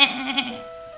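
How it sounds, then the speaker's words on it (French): A sheep gives a single short bleat with a wavering, vibrato-like cry that fades out quickly, heard alone and close in a children's French lesson about farm animals. "Comment faire le mouton?"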